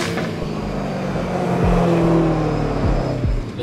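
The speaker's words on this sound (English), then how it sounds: "downshift sounds very nice." A car engine blips and revs during a downshift on the way to Crown Rally West 2021 in Denver. Loud and close, it has a rising then falling engine note, with repeated quick rev sweeps near the end.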